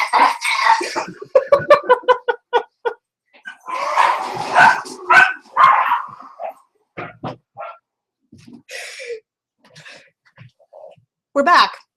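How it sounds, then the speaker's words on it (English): Two pet dogs at home bark in repeated sharp bursts, close and fairly loud, mixed with a person talking in the room between the barks. "I have two dogs."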